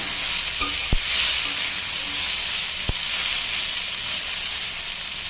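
Vegetables rubbed with salt and turmeric fry in hot oil, giving a loud, continuous broadband sizzle with two brief spoon clinks against the pan, no voices.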